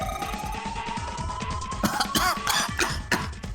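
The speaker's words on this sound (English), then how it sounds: "Damn, she's coughing so hard she can't even talk." A female character in the video game 999: Nine Hours, Nine Persons, Nine Doors coughs hard in a rapid burst of harsh, close coughs toward the end, after a stretch of background game music.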